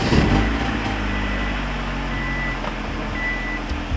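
A car engine runs at a steady idle, loud and close, with a low continuous rumble throughout and a faint beeping tone partway through.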